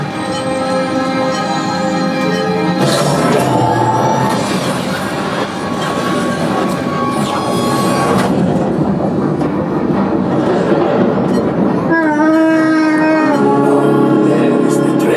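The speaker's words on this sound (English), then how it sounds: "There's the train." A loud, steady rumble of a train with rattling and clattering wheels, continuous throughout, joined by bursts of music and effects, on the Millennium Falcon: Smugglers Run ride simulator at Walt Disney World.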